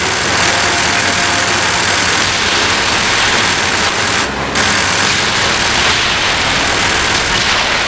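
Engines running in James Bond 007: Blood Stone, a PC action game: a loud, steady roar with a low rumble, continuous and close, with a brief dip partway through.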